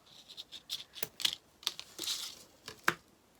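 Scissors snipping off pulled-tight material wrapped around a Christmas gingerbread rolling pin: a quiet run of small crisp clicks and snips, some sharper than others, close up with no talking.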